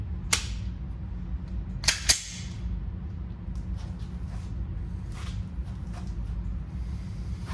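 A SIG Sauer P320 X-5 Legion handgun fires outdoors at night, with a single sharp report followed by two quick shots, each ringing briefly against a steady low background rumble.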